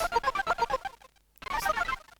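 A GarageBand 8-bit synthesizer sound: short bursts of a garbled, chattering electronic tone, stuttering rapidly, pausing briefly, then returning for another choppy burst.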